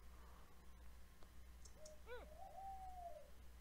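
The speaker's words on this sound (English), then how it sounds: "Sorry guys if you hear a bird in the background." A bird calls in the background: a short burst of rising, hooting notes followed by one long drawn-out whistle-like tone, faint against steady low hum with no talk.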